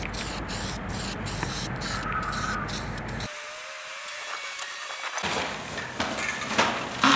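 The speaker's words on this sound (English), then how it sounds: "So I'm gonna be using like a chrome-ish spray paint." Chrome spray paint hissing from an aerosol can onto tow mirrors, steady close hiss with short pauses and a brief gap partway through.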